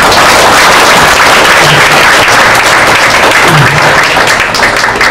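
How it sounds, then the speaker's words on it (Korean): Loud, dense applause from a church congregation welcoming a pastor at his installation service, a continuous roar of clapping that holds steady without a break. "나오실 적에 큰 박수로 환영해 주시기 바랍니다."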